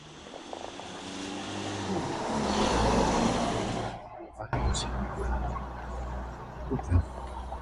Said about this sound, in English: More cars though.